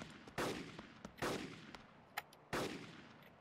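Three sharp, loud gunshots ring out in the video game DayZ, spaced about a second apart with a fainter crack between the last two, each with a short decaying tail.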